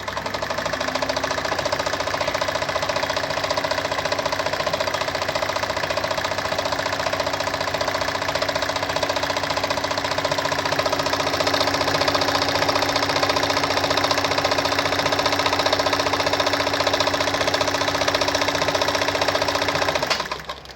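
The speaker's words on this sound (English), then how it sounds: "So when I sew through," A Kayser model 138 automatic sewing machine runs steadily while sewing its inbuilt stitches, giving a loud, continuous mechanical whir and rapid needle clatter for about twenty seconds before stopping abruptly.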